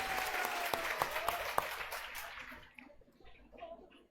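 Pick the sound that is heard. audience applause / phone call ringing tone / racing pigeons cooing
audience applause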